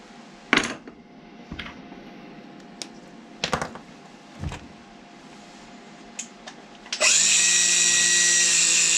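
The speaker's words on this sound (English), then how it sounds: "Just going to mark up a line and put the grinder through it, and just check it works." An angle grinder spins up loudly near the end, cutting a metal holding ring with a sustained, bright, high-pitched whine after scattered knocks and clatter of handling.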